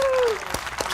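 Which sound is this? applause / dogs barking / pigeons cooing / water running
applause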